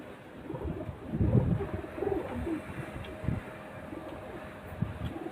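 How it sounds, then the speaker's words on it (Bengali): Soft, low cooing of Madrasi pigeons repeats in short murmuring bursts, close by, over a faint background hiss. "খুব সুন্দর পায়রা তো"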